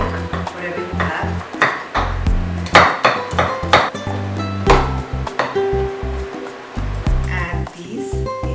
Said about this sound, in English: we're going to chop some nuts here. Some almonds, some pistachio